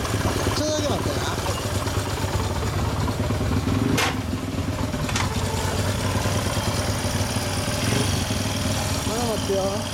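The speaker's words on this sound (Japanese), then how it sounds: "エンジン音聞かせてもらえる？" A Honda Ape 50 converted to 125 with a Bomber Takegawa kit and stock muffler idles steadily nearby, a continuous low chugging drone, with people talking over it.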